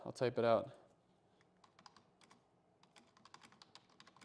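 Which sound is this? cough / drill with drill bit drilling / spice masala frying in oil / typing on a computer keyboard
typing on a computer keyboard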